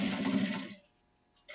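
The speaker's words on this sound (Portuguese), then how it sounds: "Eu vou passar uma costura aqui," A sewing machine stitches a seam along the edge of fabric for a book cover, running in a fast steady whir for under a second before stopping, close by, with a brief restart at the end.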